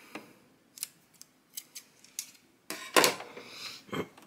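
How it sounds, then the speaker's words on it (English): Scissors snip knitting yarn near a hat brim on an Addi or Sentro knitting machine. A series of small, close, crisp snips grows louder and busier toward the end. "I'm going to cut my working yarn here."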